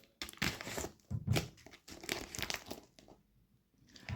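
A small cutter slices through Temu parcel packaging, giving close, crisp crinkling and tearing bursts in several quick strokes with brief pauses between.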